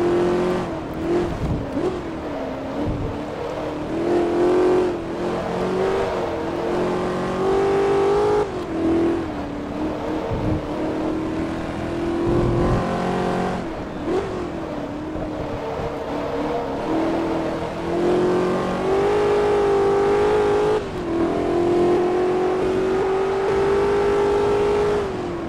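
A Shelby Cobra race car engine in Forza Motorsport 2 drones loudly and continuously through a lap, its pitch rising and dipping with gear changes and throttle, with no voices over it.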